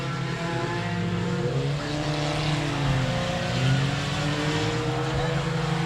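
Four-cylinder race cars roar around the dirt oval at 67 Speedway of Texarkana, a steady blend of droning engines with rising and falling pitch as cars pass, continuous and fairly loud without any talking.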